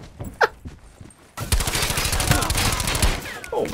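Hip-fire gunshots in the video game Blackout on PC: a quick burst of rapid automatic fire, loud and close, over continuous gameplay noise after a short quieter lead-in with a faint voice.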